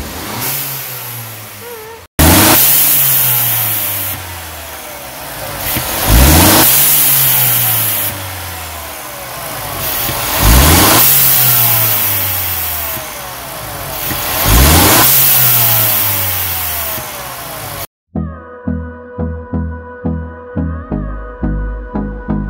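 A Mercedes-Benz CLA 250 fitted with a diverter valve spacer revs hard several times in a row, each rise in pitch followed by a fall back to idle, loud and close, then a short run of rapid blips.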